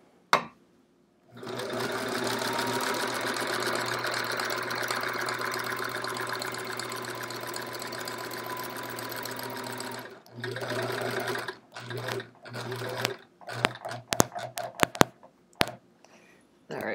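Sewing machine quilting a chevron quilt with a walking foot, a long steady whirring run followed by shorter bursts and single pedal taps as the needle is lowered, close and loud.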